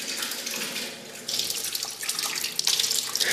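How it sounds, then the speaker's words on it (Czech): Water runs steadily from a tap inside an underground nuclear weapons storage bunker, a continuous hissing splash that surges louder after about a second and stays close with no talk. "tekoucí voda"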